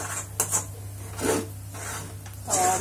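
A spoon scrapes and rubs through a dry mix of spices, green chillies and red chilli for a moong dal kachori filling, in a few close, gritty strokes with a low hum underneath.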